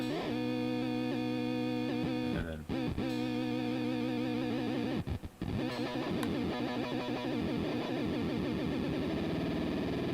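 A distorted guitar tone through an Arcade Machine effect pedal oscillating at low depth sustains with a slight wavering modulation, a couple of brief dropouts as notes are re-struck.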